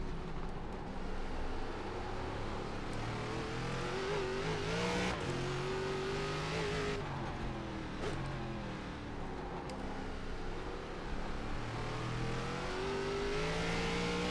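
An ARCA stock car in iRacing accelerates on a Chicago street circuit, its engine rising in pitch through repeated gear-by-gear pulls and roaring steadily and loudly throughout.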